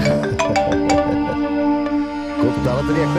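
A phone ringing with a melodic electronic ringtone, repeating chiming notes played close and clear, with a voice speaking over part of it.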